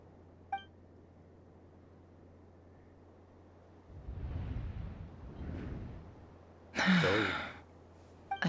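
A Genshin Impact character lets out a sharp gasp, a brief loud burst standing alone after quiet moments of faint breathy sound.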